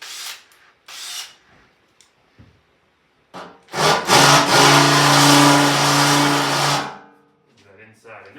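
A drill cleans up a hole in a supply hopper, a close, loud whirring grind that rises, holds for about three seconds and then winds down, with short scraping touches and a talking voice before it.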